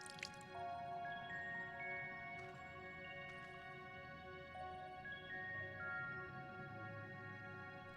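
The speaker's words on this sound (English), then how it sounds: "As Runar lightly sprays you with water" Water sprays lightly in Final Fantasy XIV Online, a soft dripping, splashing hiss that stays faint beneath sustained tonal music throughout.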